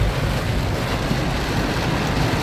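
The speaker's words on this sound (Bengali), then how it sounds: "এত অনেক বড় ধরনের বৃষ্টি হচ্ছে" Heavy downpour pouring steadily around a large vehicle, a dense, continuous roar of rain with a constant broadband hiss and no voices.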